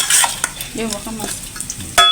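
Onion and garlic sautéing in a pan, a brief low sizzle with stirring and a few scrapes and clinks of utensil against cookware, heard close up with no talking.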